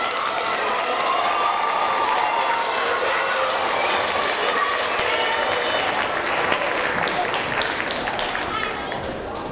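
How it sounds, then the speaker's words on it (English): Loud, sustained applause from a large crowd at a sixth-grade awards ceremony, steady clapping filling the whole stretch with cheering mixed in. "let's give them a big round of applause"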